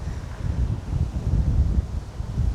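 Strong wind buffeting a microphone outdoors at a windswept site, a continuous heavy low rumble with gusty swells lasting the whole time and no voices heard.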